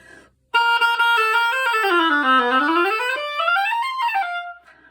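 A single oboe with an overly loud reed plays a loud, bright, buzzy melodic line after a brief silence, the pitch gliding down and back up in a sustained phrase.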